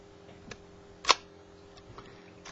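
A shutter speed dial clicks once on a Nikon S rangefinder camera, a single sharp mechanical tick standing alone amid quiet room tone, with a few fainter small clicks around it.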